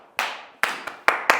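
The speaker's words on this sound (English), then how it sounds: "He claps himself." One person claps hands five times in an uneven rhythm, sharp and close, with no other sound between the claps.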